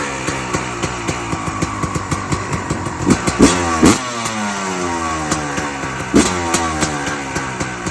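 A Kawasaki KX450 two-stroke dirt bike engine revs repeatedly, its sharp blips rising and falling in pitch as the throttle is blipped, loud and close with no talk.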